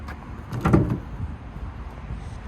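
The tailgate of a 2026 Chevrolet Silverado EV LT is lowered, a short muffled thud and soft rumble close by, then quiet outdoor background.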